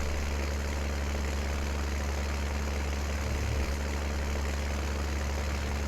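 A tractor engine struggling under load in Farming Simulator 19, a steady loud low drone with a constant hum and a slight wobble near the end, alone without talk.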